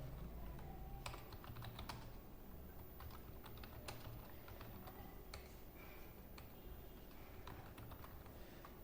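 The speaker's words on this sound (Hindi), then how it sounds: "इसमें भी हम कोई भी चीज़ टाइप करते हैं।" Steady rapid keyboard typing on a computer while working in a PowerPoint slide, with irregular key clicks running continuously over a low background hum, no talking.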